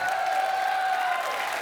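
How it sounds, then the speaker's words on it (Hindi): Studio audience on a comedy stage show applauding, a steady dense wash of clapping with a faint crowd murmur and tonal music sustained underneath, loud and continuous throughout. "वाह, जोरदार तालियों से स्वागत कीजिए"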